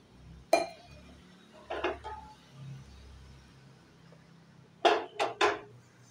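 A pot lid and pans clink while mangoes boil in water on a gas stove: one sharp clink, a pair of softer knocks, then a quick run of three metallic taps, all close and fairly quiet.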